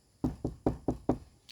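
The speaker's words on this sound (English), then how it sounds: "It was then a knock sounded at the door." Knocking on a wooden door: five firm, evenly spaced knocks, close and clear, then the start of a sixth.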